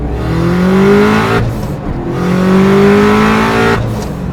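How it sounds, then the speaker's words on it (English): A turbocharged Subaru Impreza GC8 engine with a GTX2860 turbo revs up hard in second gear through two pulls, its pitch climbing, each ending with a sharp wastegate release as the throttle lifts. "Wastegate noises."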